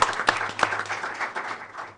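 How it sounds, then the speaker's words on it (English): Scattered clapping from a board of education meeting audience for an award winner, fairly thin with a few sharper claps standing out, over a low steady hum. "Round of applause."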